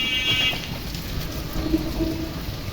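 Steady rain falls in a continuous hiss with a low rumbling undertone, fairly close and even, with no voices.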